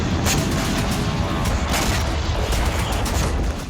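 Dense, continuous rumbling booms and crackling blasts from Russian strikes on Ukraine, loud and sustained like a barrage with repeated sharp bursts layered over a deep roar, no distinct pauses until a slight drop at the end.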